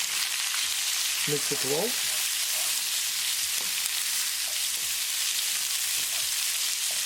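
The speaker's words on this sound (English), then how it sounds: "Cook onion until they are nicely translucent." Chopped onion fries in a pan for a masaledar cauliflower potato dish, a soft continuous sizzle with a few stirring scrapes while a voice speaks briefly near the start.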